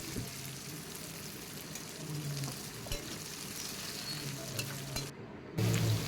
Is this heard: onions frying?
yes